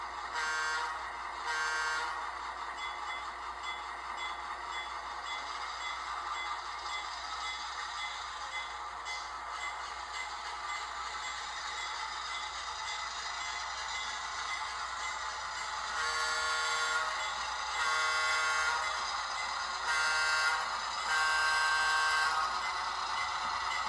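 A newly bought model locomotive being broken in runs steadily along its track pulling a load, giving a faint, continuous motor whine and hum with brief dips and a slightly louder stretch later on.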